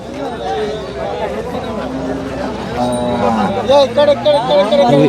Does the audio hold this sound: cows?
yes